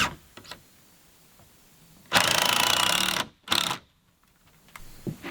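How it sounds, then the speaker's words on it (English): Three-inch screws are driven into a workshop wall frame with a power driver, two loud whirring bursts up close, the first about a second long and the second shorter, with light handling clicks around them. "I'm going to screw that in with 3-inch screws"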